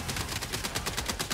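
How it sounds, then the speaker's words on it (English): Rapid sniper gunfire in the video game Helldivers, a dense burst of about a dozen sharp cracks in quick succession, loud and close with no talk. "I'm providing counter sniper fire support."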